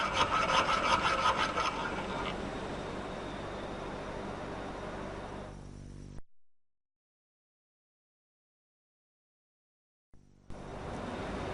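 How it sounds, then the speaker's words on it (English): A rat-tail round file rasps against metal in an automotive workshop with steady scraping strokes for about six seconds. After a long silence the filing starts again. "The fully round file, sometimes called a rat tail file, can make holes bigger."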